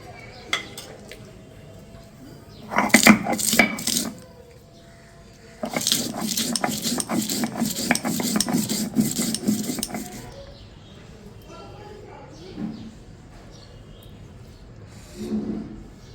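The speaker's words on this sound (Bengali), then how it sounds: "কাঁচা লঙ্কাটা আমি বেটে নেবো" Green chilli being ground into paste on a traditional grinding stone, heard as two bouts of rhythmic, close scraping and rubbing strokes separated by a quiet pause, with a few faint knocks afterward.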